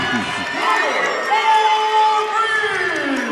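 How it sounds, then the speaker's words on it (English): Cheering and applause break out at a women's college basketball game between Stonehill and Saint Rose after a made three-pointer, with crowd noise and whoops carrying over a commentator talking throughout. "Gets a nice round of applause from her assistant coaches on the sidelines."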